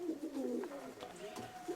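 Pigeons coo softly in an upper loft, a faint, low, rolling call with a quiet voice murmuring nearby.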